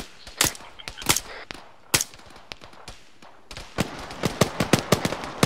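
Arma 3 gunfire in a night operation: a rapid series of sharp, loud rifle shots in irregular bursts, some close and some slightly farther, with a denser volley of quick cracks near the end.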